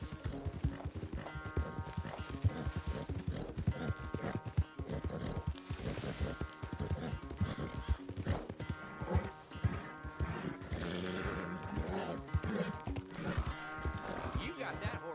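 Horse hooves clip-clop at a steady walking rhythm in the video game Red Dead Redemption 2, mixed with creaking and rattling, faint background music and occasional livestock sounds.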